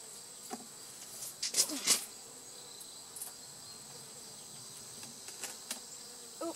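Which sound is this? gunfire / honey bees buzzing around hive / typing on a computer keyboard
honey bees buzzing around hive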